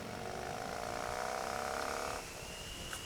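Yamaha MT motorcycle engine drones steadily at roughly 2,000 rpm, its tone climbing as the throttle opens, then the sound drops back near the end; loud, continuous and close.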